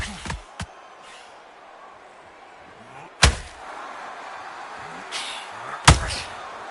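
A counter punch landing in the boxing video game Undisputed, heard as a few sharp, heavy impact thuds spread over several seconds against a low crowd-like background hum.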